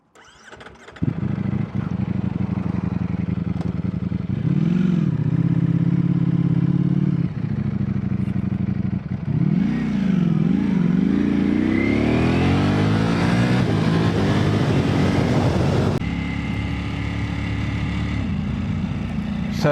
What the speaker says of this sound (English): It's a 215 brake horsepower V4 built by Ducati with a Desmo Sedici engine.